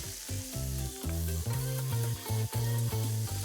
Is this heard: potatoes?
yes